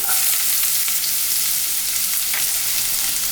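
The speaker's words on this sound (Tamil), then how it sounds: "அதுக்கப்புறம் வெங்காயம் போட்டுக்கலாங்க." Onions frying in hot oil in a pan where mustard seeds have popped, cooking for a raw banana fry: a steady, close, even sizzle that runs unbroken from start to finish, with no voices.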